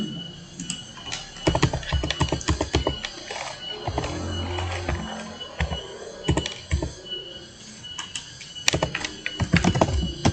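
Rapid clacking keystrokes on a computer keyboard as a prompt is typed, close and crisp in uneven bursts with short pauses between them.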